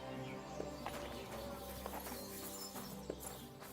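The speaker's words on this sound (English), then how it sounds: "Look, I got a new horse, by the way." A horse walking in the video game Kingdom Come: Deliverance II, with soft, steady hoof clip-clops over a constant ambient bed and distant music, no one talking.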